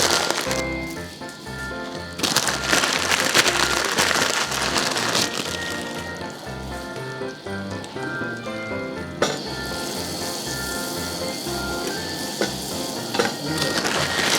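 Vermicelli for semiya payasam, about 250 grams, frying in butter in a pan, giving a steady, dense crackling sizzle with stirring scrapes over a quiet backing melody and no voices.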